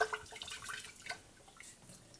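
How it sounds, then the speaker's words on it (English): Water swirled inside a glass sprouting jar holding sprouting seeds, giving soft close sloshing and dripping with light splashy trickles and no talk. "all you're going to do next is swirl some water in there"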